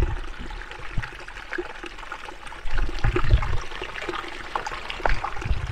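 Close-up babbling of a mountain stream tucked under ferns near a high-altitude lake, trickling and gurgling continuously, growing a little louder and fuller about halfway through, with no voices.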